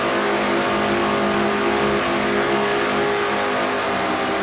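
Race car engine revving hard at Michigan, heard from inside the car at over 8,000 RPM, a loud steady high-pitched roar with a constant tone filling the whole clip.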